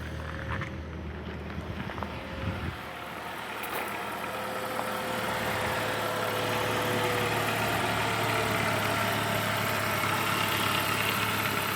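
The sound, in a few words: Saab 9-5 cold engine idling, belt and chain guide noise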